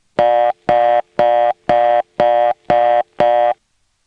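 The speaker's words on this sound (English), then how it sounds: "On the touchtone converter it still sounds steppy" Reorder tone from a 1977 touchtone converter in a step-by-step telephone exchange: seven identical buzzy, harmonic tone bursts in a steady fast on-off cadence, loud and close, with no talking.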